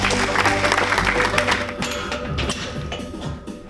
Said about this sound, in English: let's clap our hands for them